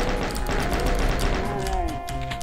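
Rapid video game gunfire rattles in a dense, continuous burst of bullet shots under a low rumble, then cuts off and gives way to a few sustained tonal game sounds.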